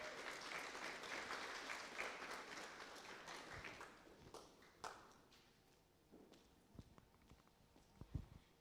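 Audience applause at a professional actuarial convention in Zimbabwe, a dense steady clapping that fades over several seconds into scattered individual claps and light knocks.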